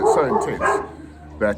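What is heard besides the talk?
dog barking in the background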